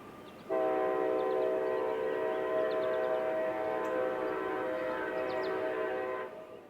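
K5LA air horn on a southbound Union Pacific locomotive, one long sustained chord blast lasting about six seconds, very loud and close, with faint background rumble before and after and no talking.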